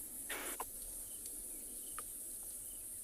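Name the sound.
crickets and other insects chirping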